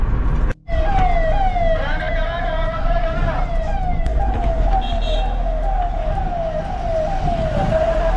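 A siren wails in a repeating rising and falling pattern as a minister's convoy passes on a busy road toward Pandharpur, loud and close over steady traffic rumble, with brief voices mixed in.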